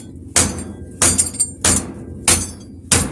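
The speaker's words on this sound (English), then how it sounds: "just go for a dead blow with a big hammer" A big dead blow hammer pounds a seized bolt on a Triumph Spitfire, five heavy, evenly spaced strikes ringing close and loud with short metallic decays between them.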